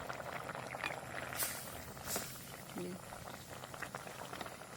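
A tomato and prawn curry with milk boils in a pot, making a soft, steady bubbling that stays faint, with voices heard over it.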